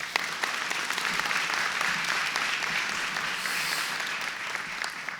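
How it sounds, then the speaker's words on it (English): Audience applause at an elementary school ribbon cutting, a steady dense patter of many hands clapping throughout, fairly close and even in loudness. "if you would just give them a round of applause as I mention each one of them"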